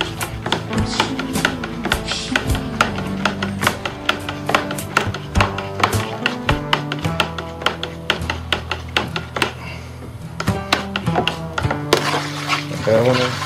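Liquid from a homebrew lager kit stirred in a fermenter, giving a continuous run of close, light splashing and clinking taps with steady tonal sound in the background.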